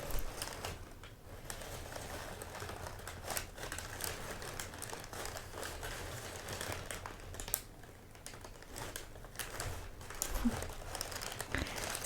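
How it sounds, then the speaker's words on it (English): Crinkly paper packing in a parcel of body shop goods is handled up close, with soft, irregular crackling and rustling bursts that continue quietly and intimately throughout. "Lots of crinkly paper."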